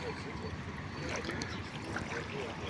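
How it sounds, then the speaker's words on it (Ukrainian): Small river waves lapping toward the shore of the Dnipro at a river port, a steady broadband wash of water with light trickling and splashing detail, continuous and fairly close. "Хвилі прямо на нас."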